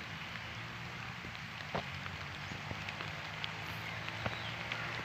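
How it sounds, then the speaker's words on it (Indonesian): Rain falling at a grassy fishing spot, a steady even hiss of drops with occasional sharper nearby patters and taps, continuous and moderately loud, without voices. "Wah, hujan, suasananya hujan."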